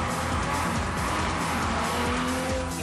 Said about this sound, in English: You can just hear and feel the violence of that engine behind you just pushing at your back.